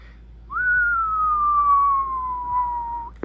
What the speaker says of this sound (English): Let's see what it does with a whistle.